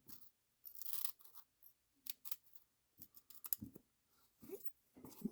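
Scissors snip through a strip of closed cell foam for tying a trout fly, giving several short, crisp close-up cuts separated by brief pauses.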